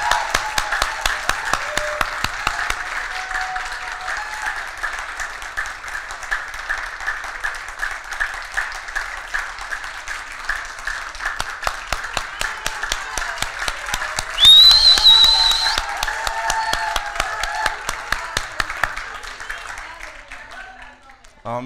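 A church congregation claps rhythmically at a women's gathering, with voices and a cheering burst mid-way. The clapping is steady and fairly loud and continues for about twenty seconds.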